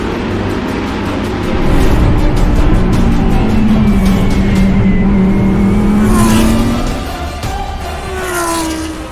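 A race car engine roars loudly on track, the pitch rising and falling through gear changes as the car accelerates, with other cars whining faintly nearby and no voices.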